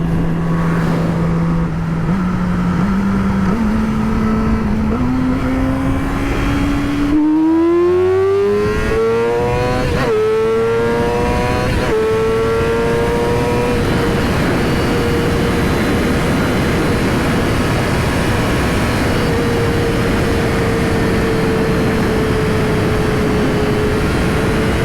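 Yamaha R6 motorcycle engine while riding, loud and close, revs climbing steadily through several gears with shifts, then holding a high sustained whine under rushing wind.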